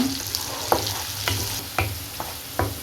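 Onion masala sautés over a low flame for ghee chicken roast, a soft steady sizzle punctuated by several sharp spoon scrapes and taps against the pan at an uneven rhythm.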